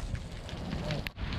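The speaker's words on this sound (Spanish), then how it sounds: "bajo la lluvia torrencial ahora la lluvia." Torrential rain pours down during a fishing outing, a dense, steady roar of drops filling the air close by, loud and unbroken apart from one brief dip near the end.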